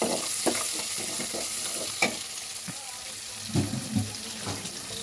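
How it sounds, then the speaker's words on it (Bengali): Turnip curry with salt, turmeric and chili powder is stirred in a hot pan, a continuous sizzle broken by repeated scrapes and clinks of the spoon against the pan, close up with no voices. "দিয়ে আমি ভালোভাবে নাড়ব।"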